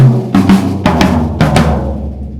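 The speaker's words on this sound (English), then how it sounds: "you've got these, which are the tom-toms. Tom-toms. And they start small and end large." Tom-tom drums on a drum kit, played in order from the smallest to the largest, sound as a close, loud run of resonant hits in quick pairs, each ringing out briefly before the next.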